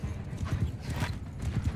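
Hooves of a noble horse clip-clop steadily in the video game Mount and Blade 2, a continuous rhythmic trotting over a dense, rumbling ambient bed.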